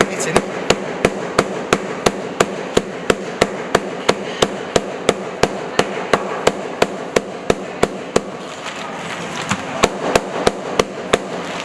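Steak is pounded through a bag with sharp, evenly spaced whacks, roughly three per second, continuing steadily for over ten seconds at close range, with faint background noise between blows.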